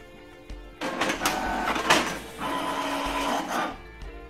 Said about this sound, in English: it prints a document very quick